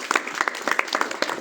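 Brief scattered applause from an audience, a handful of claps close together over about a second and a half, moderately quiet, with no talking over it.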